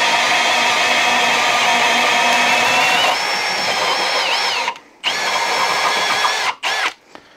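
A cordless drill set to speed 1 bores into wood with a 1.75-inch Irwin speed bore bit, a loud steady whine that cuts out briefly twice before running on, with no talking.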